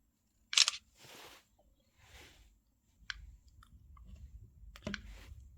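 A Samsung Galaxy A17 5G phone camera gives a sharp shutter click, followed by a few softer clicks and taps with faint handling noise between them.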